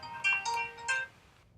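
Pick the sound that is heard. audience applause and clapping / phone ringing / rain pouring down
phone ringing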